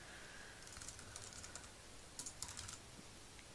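Typing on a computer keyboard while writing an HTML file in Notepad: scattered soft key clicks with a denser burst of clacks near the end, fairly quiet and with no voices.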